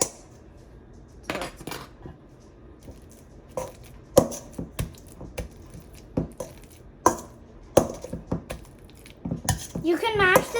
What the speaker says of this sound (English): So I'm gonna continue with the masher.